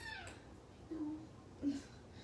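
Cat meowing during a Pilates session, two short, soft mews spaced about half a second apart over quiet room tone.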